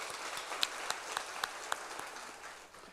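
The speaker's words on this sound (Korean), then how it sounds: "다시 한번 함께 영광의 박수 올리시죠" A congregation at a Friday church worship service claps in unison, a steady crowd applause with several sharper claps popping out, gradually fading toward the end.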